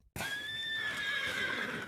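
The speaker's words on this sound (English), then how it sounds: "Looks like he's part horse." A horse gives a single clear, high whinny that wavers and trails off, fairly close and standing alone, with no talking.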